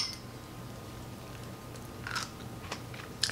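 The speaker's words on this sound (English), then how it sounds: "Hear the crunch?" Someone bites into fresh, crunchy fermented Bavarian white wine sauerkraut, giving a few brief, crisp crunches near the end over a quiet background.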